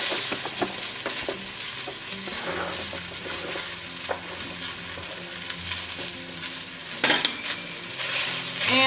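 Mushrooms and red onion fry in olive oil in a pan with a steady close sizzle, broken by repeated scraping and clacking of a utensil stirring against the pan.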